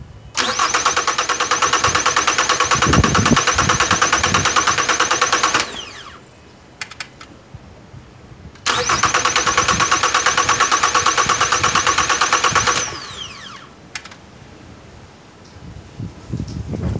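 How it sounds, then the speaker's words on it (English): A Kia Optima with low fuel pressure codes P0087 and P0193 cranks for several seconds with a steady whirring starter, stops, then cranks again for a similar stretch, close and loud, with quiet gaps in between. "go ahead and crank the engine over to build up pressure"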